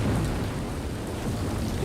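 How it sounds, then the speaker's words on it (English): Steady downpour of rain with a deep rumble of thunder in a children's cartoon, a dense, continuous wash of noise heard alone with no voices. "It's raining. We can play in the rain."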